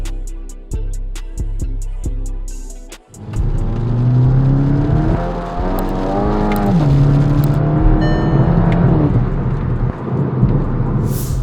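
A Stage 3 Skoda VRS 245 engine starts up and revs, then drives steadily with rising and falling engine tone as it accelerates, loud and close, no voices.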